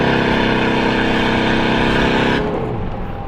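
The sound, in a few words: car engine revving with a worn clutch rubbing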